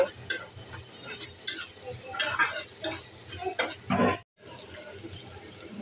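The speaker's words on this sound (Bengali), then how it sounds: "এই তো পেঁয়াজ রসুনগুলো একটু ভাজা ভাজা হয়েছে" Onion, garlic and green chilies frying in oil in a pan while being stirred, with a steady close sizzle, scraping stir strokes and brief utensil clinks, then a short gap of silence before the sizzling resumes.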